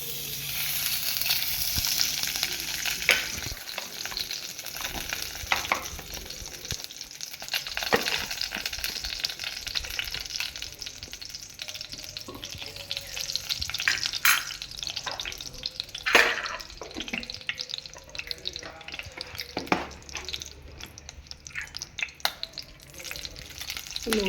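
Finely chopped coconut frying in melted ghee in a pan, a continuous close sizzle and crackle with occasional clinks and stirring scrapes, and no voices.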